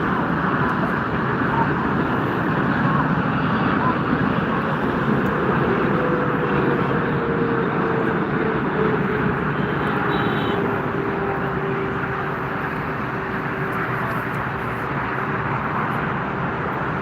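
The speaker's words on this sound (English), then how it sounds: "Emirates Boeing 777 from Dubai arriving to Frankfurt." An Emirates Boeing 777 from Dubai arrives at Frankfurt airport with a loud, steady jet roar and a slowly falling engine whine that holds through the whole stretch.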